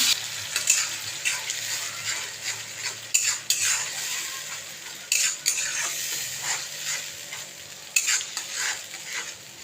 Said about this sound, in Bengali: আমি মিক্সারে মিক্স করা মশলাগুলো দিয়ে দিচ্ছি